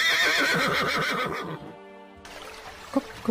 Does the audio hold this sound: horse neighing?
yes